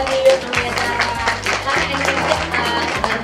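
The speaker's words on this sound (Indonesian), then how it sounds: "Kita kasih tepuk tangan dong buat Nio sama Zara" An audience claps for two children, Nio and Zara, at an indoor kids' event; scattered hand claps patter over a busy background of voices and music.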